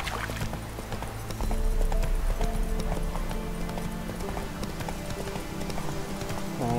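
Roach the horse gallops in The Witcher 3 video game, hooves clip-clopping in a steady rapid rhythm under layered game music and ambience, with a brief spoken voice.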